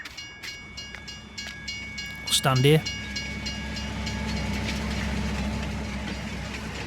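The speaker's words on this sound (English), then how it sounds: "Yeah, the train goes by." A train in the Farming Simulator 19 game, on an Italian map, rumbles past with a steady rolling roar and clattering, plus a brief horn-like blast partway through; a voice speaks briefly.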